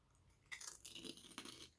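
A large, Bugle-like corn snack is bitten into close up, giving a couple of quiet crunchy crackles with soft chewing in between.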